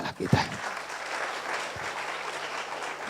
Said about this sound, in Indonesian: Tepuk tangan bagi Allah kita.